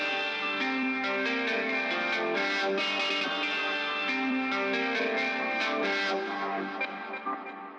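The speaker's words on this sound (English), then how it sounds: "The guitar rig, the preset is called Granular Joy." MIDI guitar run through the Guitar Rig preset Granular Joy sounds as a dense, shimmering wash of processed chords with chorus, echo and grainy distortion, held steady and fairly loud before thinning out near the end.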